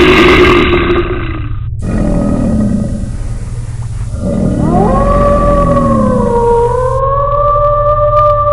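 Monster growling for a horror story, set outside a bedroom window beside a forest at night: loud, continuous, deep guttural roars and rumbling snarls with rising, wavering tones, close and sustained throughout.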